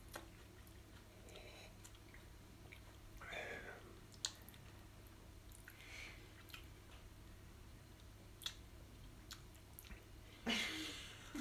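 Someone chews a raw habanero pepper up close, soft wet mastication and crunching mixed with quiet breaths, whispers and brief clicks over a low steady hum.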